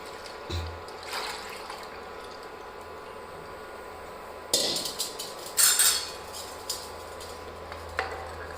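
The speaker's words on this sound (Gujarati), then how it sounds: "દૂધને આ રીતે હલાવતા હલાવતા ગરમ કરીશું" Milk heats in a pot on a stove while a utensil stirs it, soft scraping and clinks against the pot with a quiet liquid swish, louder stirring bursts midway, no talk.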